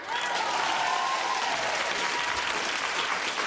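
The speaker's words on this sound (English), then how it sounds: "Keep clapping for Rosario" Studio audience on a daytime talk show claps for an actress, a dense, sustained round of applause at steady volume throughout, with no voices standing out.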